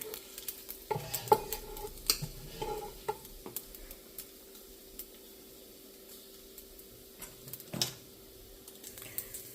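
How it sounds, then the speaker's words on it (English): Bacon browning in a pot for a Southern one-pot pot roast, a soft, quiet sizzle broken by intermittent scraping and stirring clatters of a utensil against the pot, with no talking. "I let the bacon get just a little bit browner"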